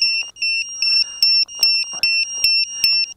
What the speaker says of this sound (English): Oh, its beeper's going off too. It has its own beeper.